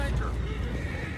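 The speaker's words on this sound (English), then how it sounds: "go find out about those horses down below" A horse in Red Dead Redemption 2 neighs over a busy background of game ambience and hooves, in a short loud clip with no clear break.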